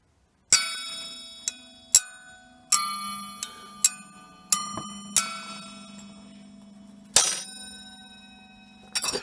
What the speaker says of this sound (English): It's the chimes.